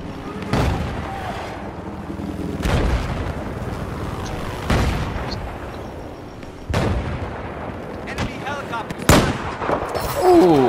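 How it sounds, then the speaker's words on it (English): Sniper rifle shots in Battlefield 4, five loud, sharp cracks spaced about two seconds apart, each trailing into a rumbling echo over background battle noise. "I just sniped the pilot out"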